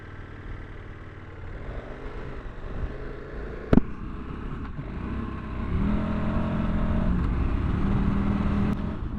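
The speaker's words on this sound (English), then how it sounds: "Let's go ride this bike a little bit." A 2024 KTM 1290 Super Adventure R on a first ride gives a steady engine and wind rumble with one sharp knock near the middle, then grows louder and fuller through the second half. No one speaks.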